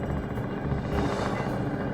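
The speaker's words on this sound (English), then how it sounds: "a Cheetah helicopter mounted with a medium machine gun flew over Tululing" A Cheetah helicopter fitted with a medium machine gun flies overhead during the 1999 Kargil War. Its rotor and engine make a steady, loud drone with a faint rhythmic thump throughout, and no voices are heard.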